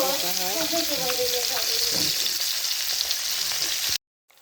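Oil sizzles and crackles loudly and continuously as fresh koi fish fry, with a faint voice briefly at the start before the sound cuts off.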